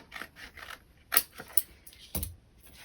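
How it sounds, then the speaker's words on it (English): Scissors trim a paper junk journal tag, giving a few quick, close, sharp snips spaced irregularly over a few seconds with soft handling noise between. "trim a bit."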